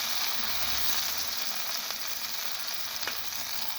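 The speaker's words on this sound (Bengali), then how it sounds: "টমেটোগুলো তেলের উপর ভেজে নেব" Tomatoes frying in hot oil give a steady, close sizzle with soft crackles and faint stirring noises, continuous throughout with no voices.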